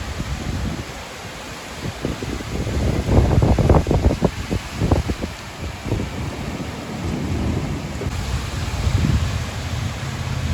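A thunderstorm with rain: a close, loud roll of thunder rumbles for several seconds over a steady wash of rainfall and wind.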